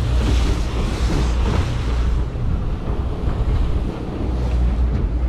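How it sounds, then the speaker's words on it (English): Strong wind gusts across open water near shore off Newport, Oregon, roaring loudly over a microphone alongside churning wind chop and white water, steady throughout with no voices. "It's a little too breezy."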